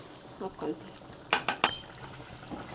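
A spoon stirs chili, coriander and garam masala powders into a simmering curry, producing a few sharp metallic clinks and scrapes against the pot, with a voice speaking briefly before them.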